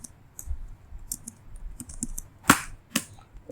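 Keys clatter on a computer keyboard in a quiet room, irregular close clicks with a couple of sharper, louder keystrokes standing out.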